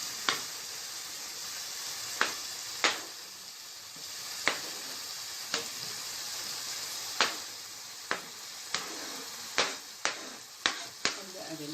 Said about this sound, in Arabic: أبدأ أقلبهم شوية مع بعض